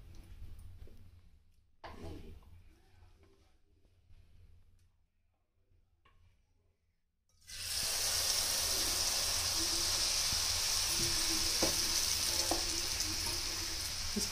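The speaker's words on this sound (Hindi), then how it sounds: "ये हमारा तेल गर्म हो चुका है, अब हम इसमें पुआ डालेंगे।" Malpua batter dropped into hot oil, a sudden loud, steady crackling sizzle that starts about halfway through after quieter kitchen sounds and faint talk, then continues evenly with a few soft stirring knocks.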